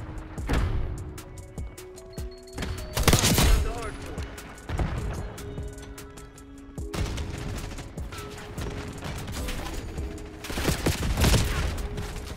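Rapid gunfire bursts and sharp single shots crack out in a Black Ops 6 gunfight, several loud volleys clustered around the middle of the stretch over low background game noise, with a voice talking at points.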